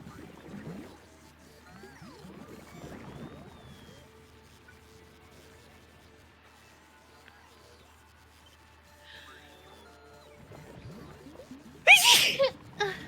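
A single loud, sudden sneeze bursts out near the end, following a stretch of quiet shuffling and soft indoor background sounds.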